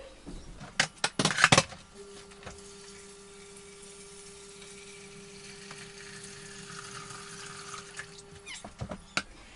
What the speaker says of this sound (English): So I'll put some water in